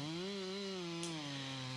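A chainsaw cuts into a large spruce trunk during a climbing tree removal in Voorburg, its engine holding a steady, loud, buzzing whine throughout with no talk.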